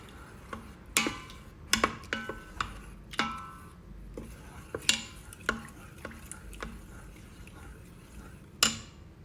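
A metal ladle stirs cooked dal in an Instant Pot, giving irregular sharp clinks and taps against the pot every second or so over a quiet background, with no speech.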